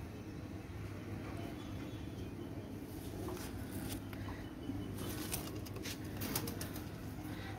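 A pair of Pakistani teddy pigeons coo softly amid a constant background hum, with faint rustling and a few brief flutters.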